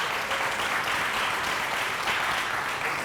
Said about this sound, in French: Mesdames et messieurs, applaudissez.